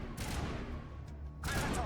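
Gunfire from Garrus in Mass Effect rattles in two short, loud bursts, one at the start and one near the end, separated by a lower rumble of combat.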